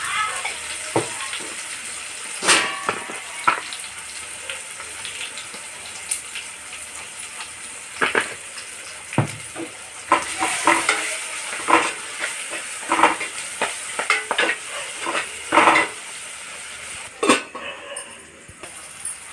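Tempering with turmeric frying in a pan for horse gram rasam, with scattered clinks and scrapes of stirring over a steady low sizzle, close and fairly quiet, no voices.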